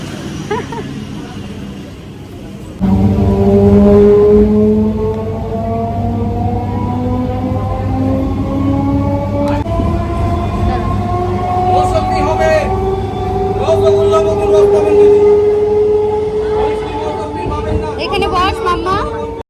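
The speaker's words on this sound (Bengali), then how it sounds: "আমাদের ট্রেন ঢুকে গেছে" An electric local train pulls into Naihati station on the Palta line, its loud rising tonal whine and horn-like tones sounding steadily for nearly twenty seconds over platform crowd babble.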